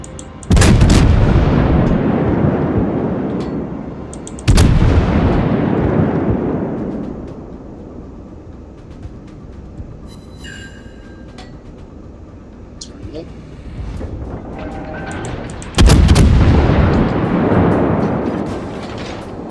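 Naval gunfire in World of Warships from a New Orleans cruiser, three heavy booming salvos that each roll off in a long rumbling decay, with quieter battle ambience between them and speech over parts.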